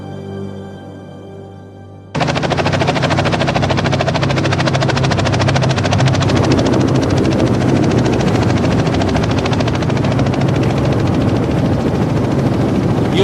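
A helicopter roars close by over the Alaskan wilderness near Denali, its rotor chop steady and loud after a brief quieter opening, with engine whine running throughout.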